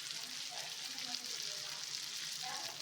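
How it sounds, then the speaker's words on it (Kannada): Bangada mackerel fish frying on a tawa in oil, a steady, even sizzle that continues without a break, fairly soft and close. "ಸ್ವಲ್ಪ ಥರ ಚೆನ್ನಾಗಿ ಪ್ರೆಸ್ ಮಾಡಿಕೊಂಡ್ರೆ ಚೆನ್ನಾಗಿ ಫ್ರೈ ಆಗುತ್ತೆ"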